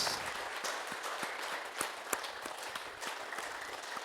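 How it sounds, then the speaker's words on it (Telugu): A seated class audience at a talk on the middle path gives sustained applause, a steady dense patter of many hands with a few sharper claps standing out, continuous throughout. "మధ్య మార్గానికి క్లాప్స్."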